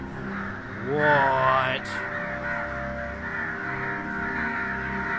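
Crows in the Only If 3 video game caw loudly, a rising harsh call in the first seconds followed by a steady droning game ambience, while a player speaks briefly over it.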